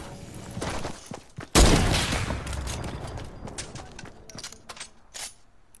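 A flashlight pistol fires in a video game: a loud burst of rapid shots lands at once, followed by a string of sharper single cracks and mechanical clicks that trail off quieter.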